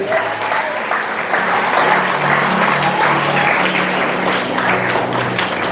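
A congregation at a healing service in a ballroom applauds for God, a dense, even wash of clapping from many hands lasting several seconds, with faint voices and music underneath.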